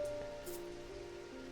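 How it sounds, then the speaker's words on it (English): Soft, steady rain pattering against a window in a video game, a continuous quiet wash of droplets with a few faint tonal game sounds running underneath. "I love the rain effect too. It looks almost real on a window."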